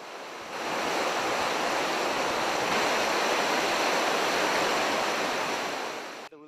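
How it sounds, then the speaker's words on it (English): The Dudh Koshi mountain river in the Everest region of Nepal rushes in a loud, continuous roar of churning water, steady throughout with no voices. "The sound you hear, Dutkoshi River"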